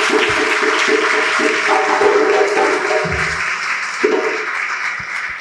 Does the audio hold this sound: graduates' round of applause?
yes